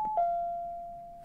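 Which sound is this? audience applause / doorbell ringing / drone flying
doorbell ringing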